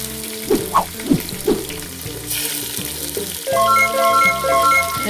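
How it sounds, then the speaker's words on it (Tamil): Onions sauté in ghee with mint, a few quick stirring scrapes over a steady sizzle, close and fairly loud, with a fuller sizzle building toward the end. "வெங்காயத்தை நல்லா வதக்கிக்கலாம்"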